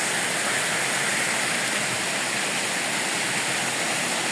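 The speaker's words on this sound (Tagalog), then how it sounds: "ito yung paliguan na namin guys yan sapa" A stream at Kabuayahan Falls rushes loudly and continuously, an even, hissing roar of flowing water up close with no pauses and no voices.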